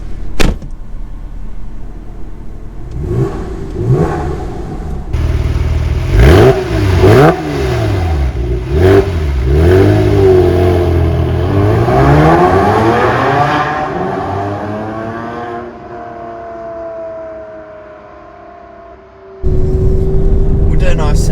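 A speed yellow Porsche 996 Carrera 4S pulls hard in second gear, its engine note rising in pitch through a sustained, loud acceleration before backing off, with people talking over the run and a burst of wind at the end.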